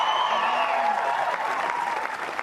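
A Wimbledon crowd at Centre Court applauding and cheering, with sustained loud clapping and whoops that ease off slightly toward the end.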